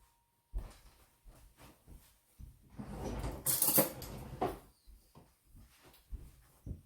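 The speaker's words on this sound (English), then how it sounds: "I'm just going to get a spoon." Kitchen utensils rattle and clink as a spoon is fetched from a drawer, a run of close metallic clatters and knocks with a louder jumbled burst in the middle, no talking.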